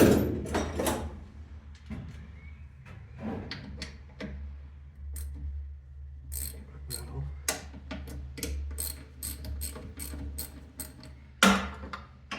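A 13mm ratchet being worked on a fire-damaged dumper during repairs, giving quick clicking bursts and mechanical ticks up close, intermittent and fairly quiet against a low background hum.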